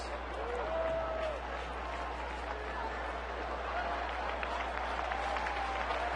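At a Phillies versus Cubs baseball game, a ballpark crowd cheers and applauds in a broad, steady wash of noise, distant and fairly quiet, with a constant low hum underneath.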